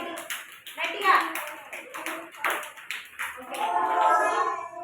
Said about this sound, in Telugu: ప్రశాంత్ బాబు ఇద్దరు క్లాప్స్ కొట్టండి గట్టిగా